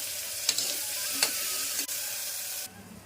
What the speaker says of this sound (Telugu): ఇప్పుడు ఈ రెండు కూడా సాఫ్ట్గా కుక్ అయ్యేంత వరకు కుక్ చేసేసుకుంటున్నాను.